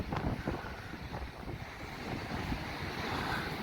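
Strong wind buffets the microphone on the Blackpool seafront promenade, a steady rough roar with gusty swells and surf washing underneath, no voices present.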